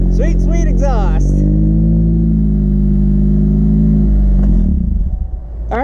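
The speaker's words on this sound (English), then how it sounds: "So we're gonna pull it off of the jack stands and get it started up and see how it sounds." A 2020 Chevy 1500 pickup with a 5.3L V8 and a newly fitted exhaust idles steadily and close by, a deep low rumble that holds throughout, with brief voices over it at the start and a slight dip near the end.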